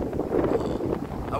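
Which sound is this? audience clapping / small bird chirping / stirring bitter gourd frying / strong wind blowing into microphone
strong wind blowing into microphone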